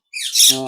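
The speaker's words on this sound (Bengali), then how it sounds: "যখন কিদা লাগে তখন কিন্তু ময়না পাখিগুলো এমন সাউন্ড করে কিন্তু" A baby myna bird squawks loudly when hungry, a single close, harsh, rising call that lasts under a second.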